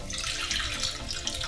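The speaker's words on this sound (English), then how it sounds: "And then we'll pour in the rest of our coffee." Coffee is poured into a Ninja Slushi machine as a steady, close splashing stream that runs unbroken for a moment, with no talk.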